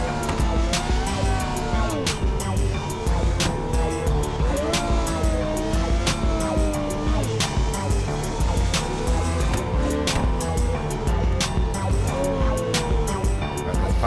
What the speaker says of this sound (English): Downshifts on this thing is just beautiful.